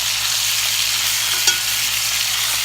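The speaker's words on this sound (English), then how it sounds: "So this will be the last side that I'm browning." Beef short ribs brown in a hot pan, giving a loud, steady, close sizzle throughout with one brief stirring scrape near the middle.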